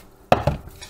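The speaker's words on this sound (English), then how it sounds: "We're gonna now drop in our bok choy." Bok choy dropped into simmering poultry broth for homemade dumpling soup: two quick, soft splashy thuds close by, then quiet.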